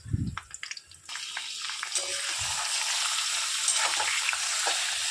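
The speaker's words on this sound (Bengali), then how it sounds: "পেঁয়াজটা একটু লাল কালার চলে এলে লেবু মাখানো চিকেনটা এবার দিয়ে দেব" Lemon-marinated chicken dropped into a pan of reddened frying onions, a few heavy thumps followed by a sudden, loud, continuous sizzle that holds steady and close.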